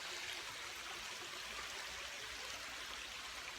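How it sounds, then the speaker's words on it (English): Pure spring water flows straight out of the ground in a steady, close, continuous babbling stream with no voices over it. "it's already purified water and it's coming straight out of the ground"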